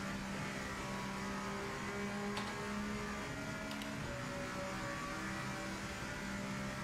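Mazda MX-5 race car in the Project Motor Racing video game, a steady mid-pitched engine drone held at constant revs with faint shifts in tone, continuous and fairly loud throughout with no talking.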